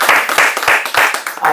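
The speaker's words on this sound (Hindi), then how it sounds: "उन्हें बरताली बजाइए" An audience at a school event claps for a short moment, hands striking in a brisk, slightly uneven rhythm that sounds like a small group nearby rather than a large crowd.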